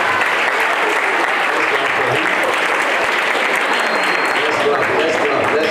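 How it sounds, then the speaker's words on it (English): Steady applause from a church audience for the pastor, many hands clapping evenly and densely without a break, fairly loud and close. "let's clap for Pastor"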